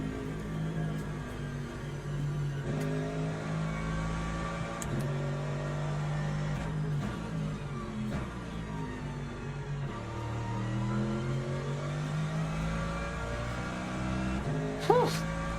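GT3 race car engines roar in the Le Mans Ultimate sim racing game during an LMGT3 sprint at Fuji. Several engines rev up and down through gear changes, loud and continuous, with a brief sharp noise near the end.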